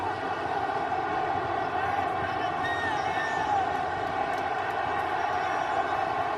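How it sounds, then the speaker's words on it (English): Fans at the National Stadium roar after a goal in the Indonesia vs Singapore AFF 2021 semifinal football match, producing a constant, dense wall of crowd noise with chanting and scattered whistles. "And now listen to the National Stadium. It's got the crowd going, that goal."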